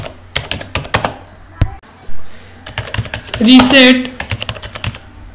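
Computer keyboard typing while filling in a registration form, a quick run of sharp clicks that comes in bursts with short pauses, heard alongside a voice speaking nearby.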